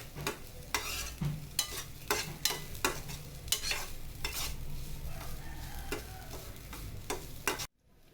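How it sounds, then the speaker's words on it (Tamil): Grated coconut sautéing in a little oil, with repeated sharp scrapes of a spoon stirring against the pan at a steady rhythm over a soft continuous sizzle, close and fairly quiet, with no talking. "கொஞ்சம் ஆயில் ஊற்றி இந்த துருவன தேங்காவை போட்டு வதக்குவோம்."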